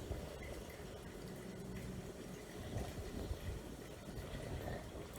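Water runs steadily from a refrigerator's filtered water dispenser into a pitcher, a continuous low splashing fill that carries on without a break.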